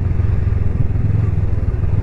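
Honda 500 Rebel cruiser motorcycle engine, sharing the CBF 500 twin, running at steady speed with a loud, continuous low rumble and wind noise during a ride.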